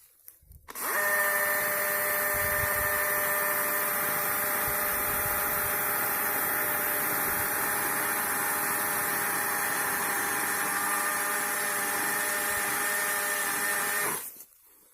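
A Husqvarna 120i battery chainsaw cuts into a birch tree in a felling job, a steady, loud whine running continuously for about thirteen seconds after a quick start, then cutting off abruptly, with no talk over it.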